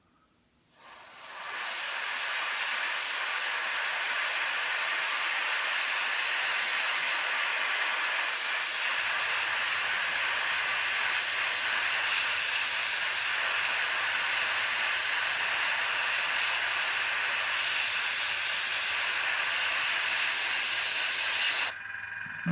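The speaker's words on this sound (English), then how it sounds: "Only pulling back very gently on the airbrush there, so I get very little paint coming through" Continuous airbrush spray of paint, a bright steady hiss that starts abruptly, holds at an even level for about twenty seconds with a low hum joining partway, then cuts off.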